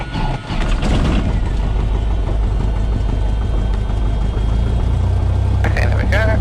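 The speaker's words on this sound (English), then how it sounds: "Engine is started." A 1974 Cessna 172 light aircraft engine catches in the first half-second, then settles into a loud, steady close-up clatter, with a brief voice near the end.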